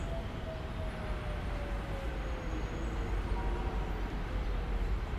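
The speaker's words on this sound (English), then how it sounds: "That is a Melbourne train just there" A Melbourne commuter train in Train Sim World 3 rolls past as a steady, dense rail rumble with a faint high whine gliding slowly downward, holding at an even level without a break.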